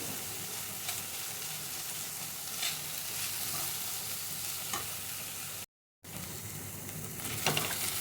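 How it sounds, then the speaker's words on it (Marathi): Soaked, drained moong dal fries in oil for an onion-leaf bhaji, a steady soft sizzle with a few faint stirring scrapes and a short gap of silence. "चांगलं तेलात परतून घ्यायला"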